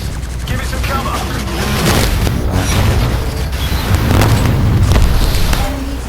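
Dense, continuous game combat from Titanfall 2 Frontier Defense on the Homestead map, with booming blasts as an enemy Titan explodes amid rolling gunfire, loud and sustained with heavier surges partway through.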